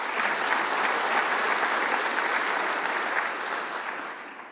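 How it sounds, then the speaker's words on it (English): Conference audience applauding in a large hall, a steady dense wash of many hands clapping together that holds strong and then tapers slightly toward the end, with no talking over it. "So a big round of applause to them as well."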